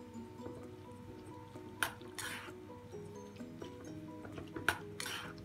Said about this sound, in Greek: Και αρχίζουμε να ανακατεύουμε.